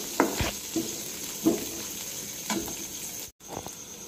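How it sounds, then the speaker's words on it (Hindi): Chopped onion, garlic, ginger and green chili fry in a pan for dhaba-style paneer do pyaza, a steady soft sizzle broken by several short stirring scrapes at roughly one-second intervals, close and moderately quiet with no talking. "या भितरे रखिथिबा कटा पियाज, रसुण, अदा, कंचा लंका को ऐड करिबा। भल भाबरे याकु भाजी नबा।"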